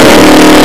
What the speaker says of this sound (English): Launch control in the Lamborghini Huracan.